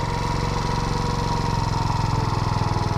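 A Baja SC50 Chinese scooter with a GY6 engine idles steadily with an even, rapid low chugging, close and continuous throughout.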